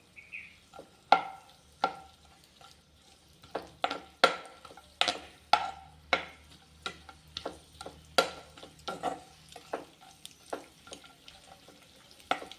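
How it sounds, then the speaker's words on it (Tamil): Grated coconut and raisins frying in a pan while being stirred for millet laddu: a steady run of close, crisp scraping strokes of a spoon against the pan over a soft sizzle, with no talk. "தேங்காய் பூவை நல்லா வதக்கிக்கணும்"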